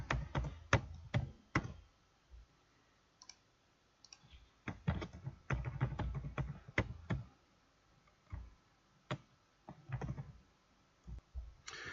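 Computer keyboard keys are typed in quick bursts of sharp clicks and taps, separated by short pauses, close and fairly quiet, with no voices.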